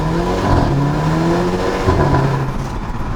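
A Mercedes A250 with a custom exhaust revs hard, its engine note rising and falling in loud, close, sustained sweeps with a rough, throaty rasp.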